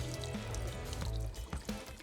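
Water gushes and pours steadily from an RV water heater tank as its anode rod is pulled out during winterizing, a continuous near splashing flow with brief louder surges.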